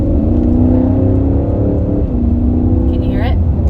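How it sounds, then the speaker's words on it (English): A 2021 Porsche Cayenne Turbo S E-Hybrid, with a twin-turbo 4-liter V8 and an electric motor in Sport Plus mode, gives a loud, sustained engine drone with a revving rise near the end, heard from inside the cabin. "Yeah, so it is a electric motor and a twin turbo 4-liter V8, getting a total of 670 horsepower"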